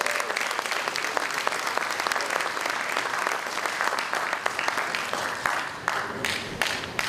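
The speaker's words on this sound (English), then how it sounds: "State Representative Reggie Miller, round of applause for you guys." A crowd at a city's State of the City address gives a sustained round of applause, a dense, steady wash of clapping that stays even throughout, with no talk over it.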